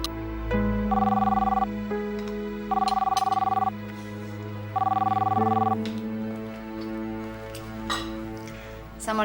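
A telephone rings in a home in repeated electronic bursts, three clear ring cycles with pauses between, loud and near, with faint room sounds around them and no talk.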